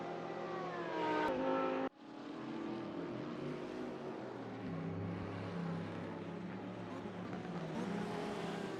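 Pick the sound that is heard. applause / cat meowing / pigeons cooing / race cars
race cars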